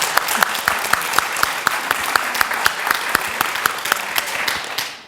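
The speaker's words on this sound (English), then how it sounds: "I think that deserves a round of applause." Loud, sustained applause from a large audience at a panel discussion of women judges, dense clapping throughout with a few sharper claps standing out, fading slightly at the end.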